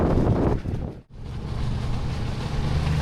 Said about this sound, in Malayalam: മരങ്ങൾക്കിടയിലൂടെ കാറ്റടിക്കുന്നത്.